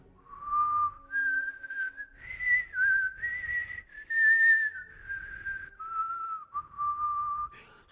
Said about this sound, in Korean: 저는 휘파람을 불어도